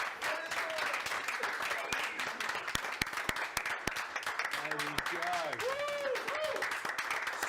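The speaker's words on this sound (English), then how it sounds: "let's have a round of applause for Farhan" Student union crowd applauding the newly announced full-time officer at a leadership election results show, steady clapping running throughout with a voice speaking briefly over it.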